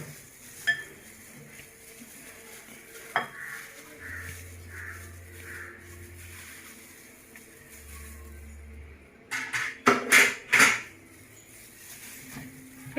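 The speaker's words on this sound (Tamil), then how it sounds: "இதுல நம்ம chicken and vegetables ஆட் பண்ணிடலாம்" Chicken and vegetables stirred into a thick tikka marinade paste in a bowl, soft wet mixing under quiet background noise, ending in a few sharp clinks of a utensil against the bowl.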